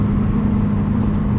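Subaru BRZ cruising on the highway at a steady 3,000 RPM, heard from inside the cabin as a loud, constant low engine drone mixed with road rumble.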